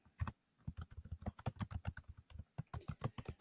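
Rapid typing on a computer keyboard while entering text into a spreadsheet cell, with crisp, closely miked key clicks in quick irregular bursts, a few brief pauses between runs of keystrokes.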